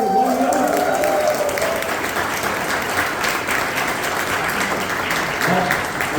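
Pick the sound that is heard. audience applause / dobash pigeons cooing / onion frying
audience applause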